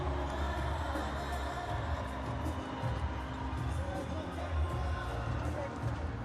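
A dense, steady roar from a basketball arena crowd during an Egypt versus Morocco World Cup qualifier, loud and unbroken, with cheering and general hubbub mixed in.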